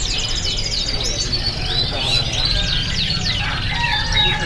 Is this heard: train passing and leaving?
no